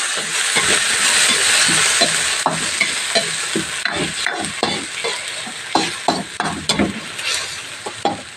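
Ground pork frying in a hot pan for a tofu dish gives a loud, steady sizzle and hiss, broken by close spatula scrapes and stirring that grow more frequent toward the end.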